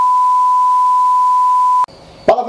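A single steady electronic beep holds one pitch for nearly two seconds, then cuts off abruptly into brief clattering noise.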